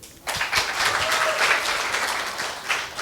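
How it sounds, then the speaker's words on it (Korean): An audience at a Korean lecture breaks into a burst of clapping that starts abruptly and stays dense and even for about three seconds, with no voices over it. "오, 맞습니다. 박수."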